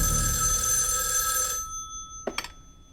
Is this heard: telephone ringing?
yes